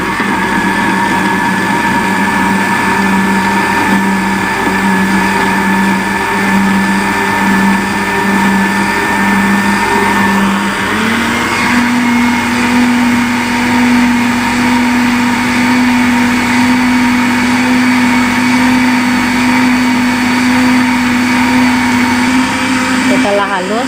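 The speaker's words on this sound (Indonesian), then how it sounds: "lalu kita blender" A blender whirs loudly and steadily grinding spices with water, its motor pitch shifting partway through as the contents break down; close and continuous.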